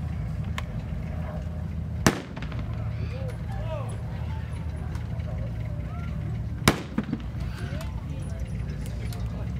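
A WWII Lend-Lease armored vehicle's gun fires at the Wings over Dallas 2017 armor display: two sharp, loud bangs several seconds apart over steady outdoor crowd noise and voices.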